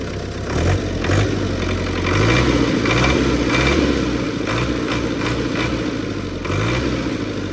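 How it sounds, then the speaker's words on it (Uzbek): A Belarus 80X tractor engine idles steadily with a low rumbling chug throughout, close by, with slight rises and dips in its rhythm. "Traktorimizda motor qismlarini ham eshittiribsizlar, yaxshi jim holatda ishlayapti."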